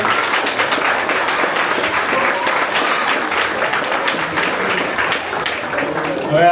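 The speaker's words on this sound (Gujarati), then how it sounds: "પ્લીઝ બધા તાળીથી વધાવી લેજો." An audience at a Ganesh aarti gathering in Leicester applauds to welcome a speaker, a dense, steady burst of many hands clapping close by for several seconds.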